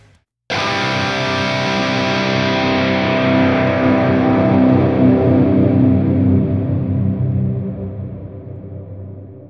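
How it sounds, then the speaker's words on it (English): A distorted electric guitar chord rings out, swelling and then slowly fading into a long, washing reverb tail. "Then you will have a reverb with a very long tail"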